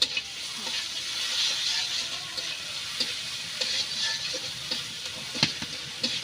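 Onions and chillies frying in a pan until browning: a steady close sizzle with crackling pops and occasional scraping stirs, no voices heard.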